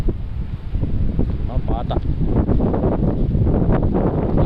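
Wind rushes and buffets the microphone in a constant low roar on a snowy hilltop at Mullayanagiri, loud and unbroken for several seconds.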